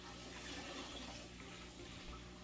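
Athena Pro Line Bloom nutrient liquid poured slowly into water, a steady continuous splashing trickle held at even loudness close by, with no voices.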